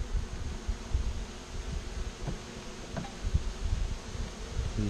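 Bees and wasps sharing a hive, a low, continuous droning buzz close by, faint and steady under light rustling with a few brief tonal whines.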